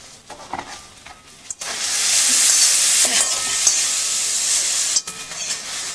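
Soft wild mushrooms, squeezed of water, drop into hot oil in a pan and burst into a loud, hissing sizzle after a few stirring clinks, holding steady before a brief clatter and settling.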